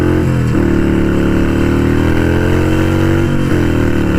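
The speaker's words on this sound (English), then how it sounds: "I do apologise if it's a bit noisy in here, but I can't really do much about that with them Vance and Hines short shots on." A Harley-Davidson Sportster 883 Iron fitted with Vance and Hines Short Shots exhaust throbs loudly and close by. Its deep, steady engine note lifts in pitch twice with brief throttle blips, and no one speaks.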